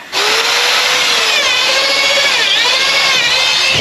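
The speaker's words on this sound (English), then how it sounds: "So I'm just gonna drill a hole in the bottom of the boat" A power drill whines loudly and steadily as it bores through the bottom of a boat hull, its pitch wavering slightly under load, very close and uninterrupted.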